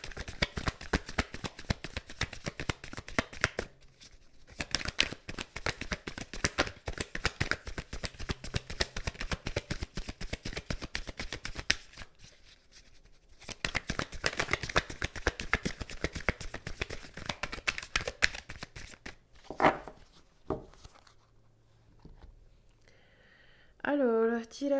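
Tarot cards shuffled for a cartomancy reading: rapid dense riffling clatter in long bursts with short pauses, fairly close, then a few brief voice-like sounds near the end.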